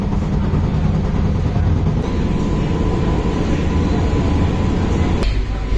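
An air-conditioned local train on the Sealdah to Ranaghat line, heard from inside as it runs, giving a steady, loud low rumble of wheels and carriage noise throughout with no talk.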